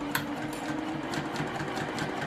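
A sewing machine back stitches a reversible tote bag, running in a steady, close, continuous whir with a faint rhythmic pulse and no talk.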